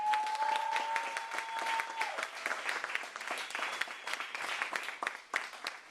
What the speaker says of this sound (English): Can we make a big round of applause for all the youth, the younger poets up in here making some noise?